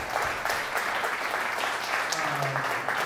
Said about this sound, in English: big thanks and applause, please